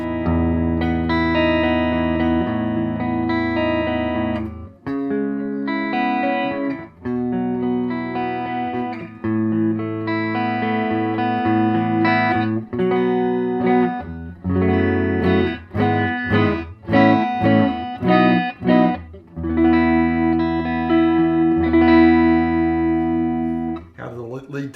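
Distorted Oscar Schmidt OE20 Les Paul-style electric guitar on its front pickup plays a warm, thick riff with sustained chords and quick picked passages, loud and alone with a little reverb.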